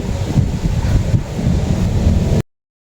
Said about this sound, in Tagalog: malakas po dito ang hangin